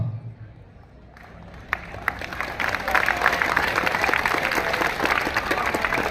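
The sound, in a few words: students clapping, applause at a farewell celebration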